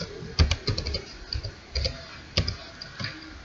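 Keys tapped on a computer keyboard while a file name is entered, short bursts of clicks in uneven rhythm with brief pauses, close and fairly quiet, no voices.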